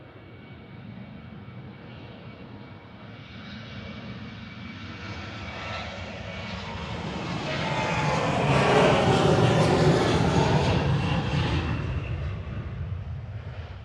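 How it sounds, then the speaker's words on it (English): A fixed-wing airliner takes off at Manchester Airport, its engine roar swelling from a distant rumble to a loud, broad peak before slowly easing as it climbs away. "It's a very late takeoff."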